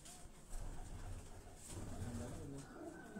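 Teddy pigeons cooing in a loft, soft low coos under steady background noise, fairly faint and close.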